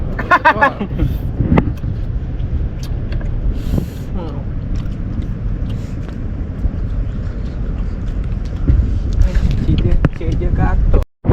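Strong wind roars across a microphone on a windy sea during a fishing trip, a steady low rumble with gusty bursts and a few brief knocks throughout, with no speech heard.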